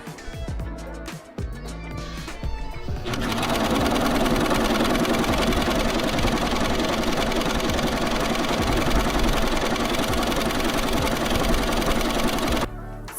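A sewing machine stitches in a continuous fast mechanical whir, loud and near, starting after a few seconds of handling noises and stopping abruptly at the end.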